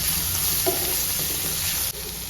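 Tomato cooked down with coriander powder, garam masala, turmeric and chilli powder sizzles steadily in a pan for an egg curry, with a faint stir midway and a brief dip near the end; no voices.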